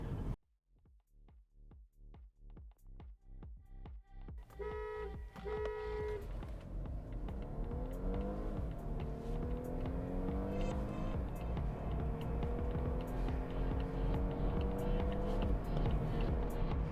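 Two Volvo sedans, an S60 with a T6 engine and an S90 with a T5 engine, race side by side: engines idle and rev in short pulses, then both roar up through rising gear sweeps, loud and close, with no talking.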